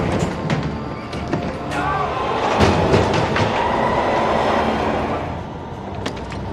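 A subway train rumbles along with rhythmic clicking of wheels over rail joints, a steady rolling roar that swells in the middle, with faint talk underneath.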